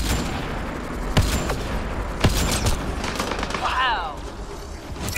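Sci-fi gunfire from Mass Effect: Andromeda in a combat scene at a scavenger base, with two sharp shots standing out from dense battle noise, a whooshing energy effect near the end, and a brief spoken exclamation.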